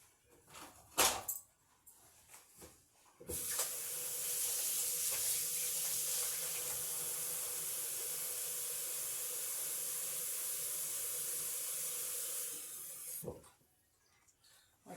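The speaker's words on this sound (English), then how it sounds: "Now let me wash my hand off here." Water runs from a kitchen tap while hands are washed, a steady loud hissing rush lasting about ten seconds after a few clunks and taps, then cutting off.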